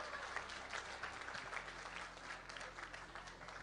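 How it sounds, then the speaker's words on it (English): A workplace conference audience at TechHR 2018 breaks into steady, even applause for the winning women's group, a dense wash of clapping throughout with a low hum running underneath. "Round of applause for the females."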